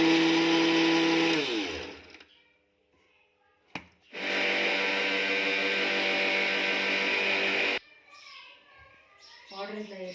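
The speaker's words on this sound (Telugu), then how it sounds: "ఎన్ని రోజుల నుంచి చెప్తున్నా మిక్సీ సౌండ్ వస్తుంది, బాగా సౌండ్ వస్తుంది." A kitchen mixie grinder whirs loudly as it grinds soaked tamarind, fried fish and cumin, running in two long bursts with a short pause between them. A voice is heard faintly near the end.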